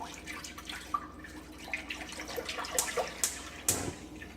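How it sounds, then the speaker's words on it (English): A gallon of milk trickles and splashes into a pan for making ricotta, with a few sharp drips and clinks standing out over a steady low pour. "Simply take a gallon of milk, pour it in the pan"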